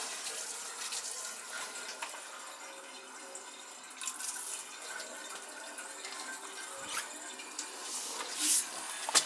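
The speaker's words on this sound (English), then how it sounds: "This tank's gonna fill because I did drain it." A drained water tank refills through old copper pipes, giving a steady, moderate rush of flowing water with faint drips and trickles, and a brief louder splash toward the end.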